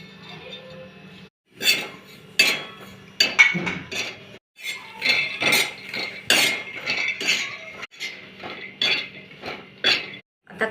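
Spatula scraping and clinking in a pan while masala and coconut are dry-roasted for a Maharashtrian bitter gourd dish, with steady repeated close metallic strokes through the whole stretch.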